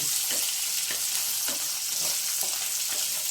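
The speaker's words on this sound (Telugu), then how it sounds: "చాలండి, పచ్చిమిరపకాయ ఇలా వేగితే చాలు, మరి బాగా వేగనవసరం లేదు." Green chilies frying in hot oil with mustard seeds, urad dal and curry leaves, a steady close sizzle with faint scraping stirs repeating throughout, no voices.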